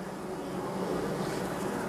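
Honey bee colony in an open hive, a dense, steady buzzing of many bees heard close and fairly quiet, continuous without pauses.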